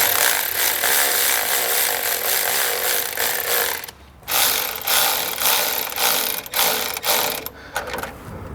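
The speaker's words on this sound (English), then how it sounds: "Once you have the tube on, we're going to go ahead and tighten down the clamps." Ratchet tightening the hose clamps on a charge tube on a Polaris RZR Pro XP, a rapid run of dense clicking with brief pauses and then shorter choppy bursts, close and loud.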